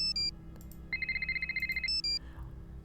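Phone ringtone from the Nancy Drew: The Silent Spy video game: a bright electronic tone pattern, short chirps, then a sustained steady pulsing ring lasting about a second, then chirps again, clear and close.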